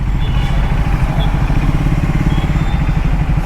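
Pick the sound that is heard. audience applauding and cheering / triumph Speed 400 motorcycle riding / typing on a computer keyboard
triumph Speed 400 motorcycle riding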